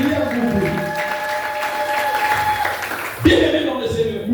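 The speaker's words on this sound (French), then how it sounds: "Quelqu'un peut acclamer encore." A church congregation in Lubumbashi applauds during a Sunday service: steady clapping from many hands under continuous speech and ringing tones, rising in a brief louder surge near the end.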